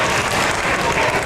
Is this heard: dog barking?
no